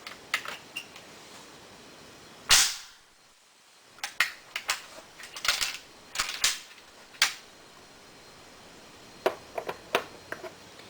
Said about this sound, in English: I'm going to close it on the bolt. First one is going to be number 34.